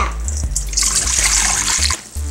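Very warm water poured from a cup into a bowl while making slime, a close, steady splashing trickle that swells in the middle and cuts off near the end.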